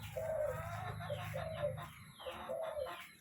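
A pet bird coos in low, repeated phrases close by, three or four rounded calls in a row over a quiet room.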